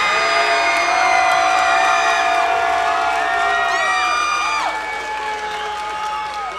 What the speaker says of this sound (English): how about a round of applause for the Ryan Sanders and Marcus Davis